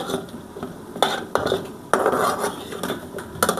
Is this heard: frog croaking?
no